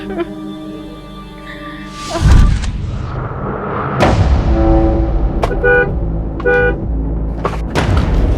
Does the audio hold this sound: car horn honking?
yes